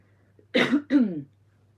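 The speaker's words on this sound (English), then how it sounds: "I need to clear my throat." Someone clears their throat in two short, rough bursts close to the microphone, against a quiet background hum.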